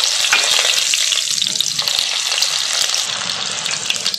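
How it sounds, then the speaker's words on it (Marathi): Crushed garlic cloves frying in oil for vada pav, a loud, dense sizzle with quick stirring and scraping throughout, close up and without voices. "जे ठेचून घेतलेला लसूण आहे तो पण असा जरासा तळून घ्यायचा आहे"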